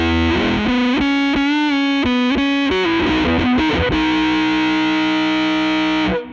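Heavily fuzzed, distorted guitar through a Death by Audio Crossover Fuzz, low band alone, with a thick low end, playing a short riff before holding a buzzing sustained chord that cuts off abruptly.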